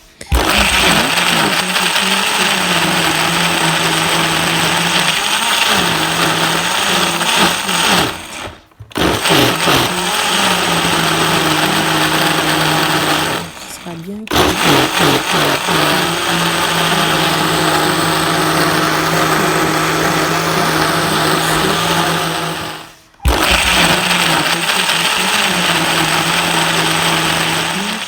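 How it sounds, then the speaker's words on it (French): A loud blender whirs steadily in long bursts, stopping briefly three times before starting up again; a voice speaks briefly over the motor. "ça pourra passer aisément dans le mixeur sans me déranger"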